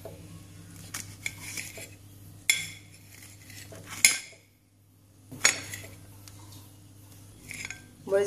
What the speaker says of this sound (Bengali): আমি মরিচগুলোকে একটু এইভাবে একটু কেটে নিচ্ছি আর কি, মাঝামাঝি কেটে নিচ্ছি